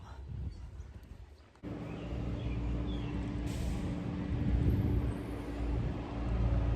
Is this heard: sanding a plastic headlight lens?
no